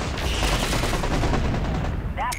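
Fixed artillery pounds away in the video game MechCommander 2, a dense, unbroken barrage of loud gunfire-like blasts and rumbling that fills the whole stretch, with a brief higher chirp near the end.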